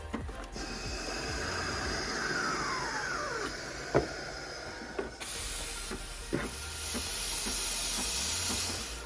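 A Breville Barista Express steam wand hisses continuously while steaming milk, with a gurgling, sputtering texture, punctuated by a few sharp clicks and a brief squeal, getting louder and brighter partway through.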